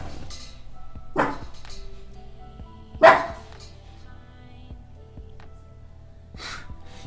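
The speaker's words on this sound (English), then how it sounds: "Barking in his sleep." A dog barks in its sleep indoors: a few soft, muffled woofs and huffs spaced seconds apart over a quiet room hum.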